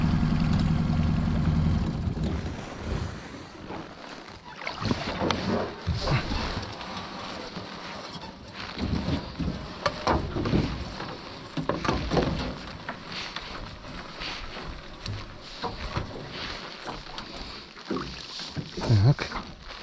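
Small boat moving across water while longlines are checked in the evening, with a low motor hum and water splashing, irregular and mid-distance, and someone speaking briefly now and then.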